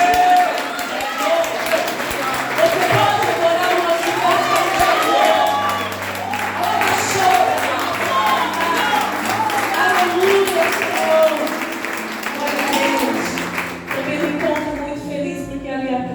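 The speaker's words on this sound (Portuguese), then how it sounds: "Você pode aplaudir a Deus por isso?" A church congregation at a Portuguese-language family service applauds and cheers in a dense, sustained wash of clapping and whoops, with a voice talking over it throughout, fading slightly near the end.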